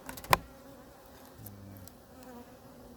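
Honey bees hum softly around a hive in a low, steady drone, with a sharp tap near the start and a brief closer buzz passing by.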